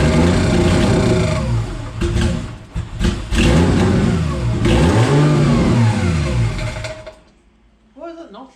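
Nissan R33 Skyline engine revving loudly up and down through several rising and falling sweeps, close by in a garage, with people talking over it before the engine drops away near the end.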